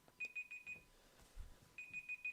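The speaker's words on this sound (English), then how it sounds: "my timer went off" A game jam countdown timer alarm goes off in two bursts of rapid, evenly spaced high beeps separated by a short gap, fairly faint and with no talking over it.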